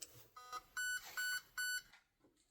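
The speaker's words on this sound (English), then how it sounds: "Does it do a signature beep?" A Delta Armory Freya airsoft MOSFET giving its signature beep, a short series of close, clear electronic tones, several longer chimes in a rising pattern before it falls quiet.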